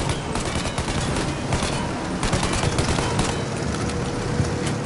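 Sustained automatic gunfire in the Mafia Definitive Edition video game as shooters fire on a plane's engines, a dense, loud, continuous rattle of rapid shots with overlapping bursts throughout.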